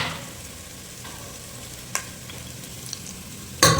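Mustard seeds go into hot oil for a village-style mackerel curry. A soft steady sizzle follows, broken by a few sharp crackles and pops near the end, with no voices.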